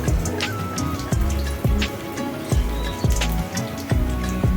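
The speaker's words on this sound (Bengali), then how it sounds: "কয়েক সেকেন্ডের মতো পাঁচফোড়ন দেওয়ার পর ভেজে নেব।" Panch phoron seeds frying in hot oil beside browned onions for a lentil dal, with sharp crackles and spits over a continuous sizzle and regular knocks of a spoon against the pan, close and loud.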